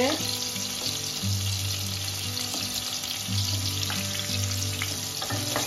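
Loud, continuous sizzle of pointed gourd frying in a pan, with occasional scraping and a low hum underneath.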